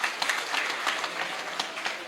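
Children in an audience applaud at a talk, a steady crowd of hands clapping at moderate volume, sustained throughout.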